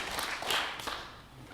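Audience applause at a Harlem city council candidates' town hall meeting, a brief burst of clapping that swells and then fades.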